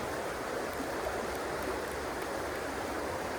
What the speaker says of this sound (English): the river is moving really, really fast here. It's a fast-paced river.